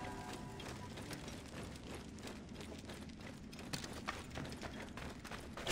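Horse hooves clip-clop steadily in Assassin's Creed Origins, a quick, even trot of close, moderately loud footfalls over a busy game soundscape, with no talk.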